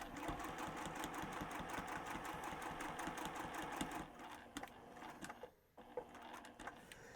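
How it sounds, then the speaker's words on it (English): A sewing machine stitches quilt fabric with a fast, steady mechanical whirr and needle chatter, running continuously before slowing and briefly stopping near the end. "I'm going to go over my stitching, just a couple of stitches"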